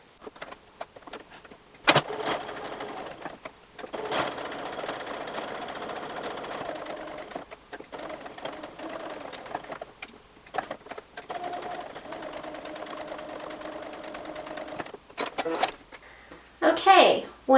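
A sewing machine runs in long steady bursts as it stitches around a fabric heart, with brief pauses between runs and quiet handling noises close by.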